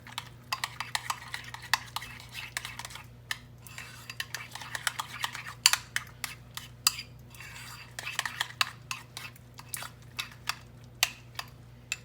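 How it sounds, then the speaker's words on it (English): A spoon mixes cottage cheese and yogurt in a bowl for a no-bake dessert, producing soft repeated clicks and scrapes at close range with faint background hum. "I'm just going to give this a good mix and get that cottage cheese and yogurt all blended together"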